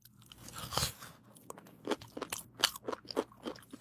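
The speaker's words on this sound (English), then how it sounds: "Today I'm eating fried chicken and mac that I made myself." Close, crunchy chewing of homemade fried chicken with mac and cheese, repeated crisp bites and crackling crunches at an uneven pace, fairly quiet and without talk.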